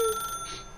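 A telephone rings in The Stanley Parable video game, a short, clear electronic ring with steady tones, heard alone and close.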